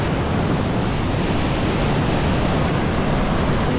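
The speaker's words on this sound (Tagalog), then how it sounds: "Nakakatakot yung alon. Grabe guys, ang lakas ng alon." Strong ocean surf pounds the shore at Dingalan, Aurora, a loud, dense, unbroken roar of crashing waves with wind, no voices.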